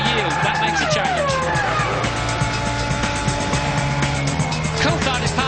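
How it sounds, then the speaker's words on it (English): Formula One cars race at a 2000 Grand Prix, with Schumacher's Ferrari alongside two McLarens. Loud, high engine whines rise and fall as cars sweep past, and a commentator talks over the racing noise. "Schumacher sprinting up alongside the two McLarens"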